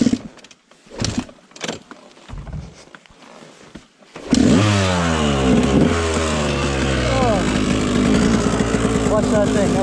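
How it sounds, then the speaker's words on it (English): A choked dirt bike engine cranks on its electric starter and fires up loud and close, running with uneven revs after a stretch of quiet handling noises. "Oh. Watch that thing. Electric start."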